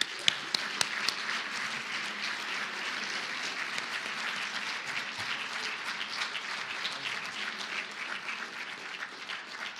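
An audience at a philanthropy lecture forum breaks into sustained, even applause to welcome a lecturer, a dense wash of clapping holding steady throughout with a few sharper claps at the start.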